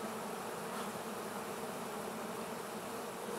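Honeybees fan their wings at a hive entrance inside a safety cone, producing a steady, dense buzzing drone that continues unbroken and fairly faint throughout.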